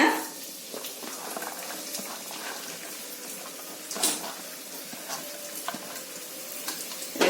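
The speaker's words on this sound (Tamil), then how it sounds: "இப்ப எண்ணெய் சூடாயிருச்சு நம்ம வெங்காயம் சேர்த்துக்கலாம்" Sliced onions frying in hot oil in a kadai for a bread finger fry, giving a steady, moderate sizzle with a few sharper crackles and the light clatter of stirring.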